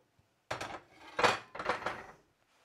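A metal spoon stirs and scrapes inside a cooking pot of noodles, making three close clattering bursts of clinks against the sides, then it goes quiet.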